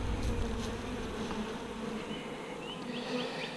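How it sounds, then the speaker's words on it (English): Honeybees buzz continuously in an opened hive during an inspection, a close, dense drone with individual bees zipping past the microphone. "I'm hoping I got a nice little fat Sebastian queen in here running around."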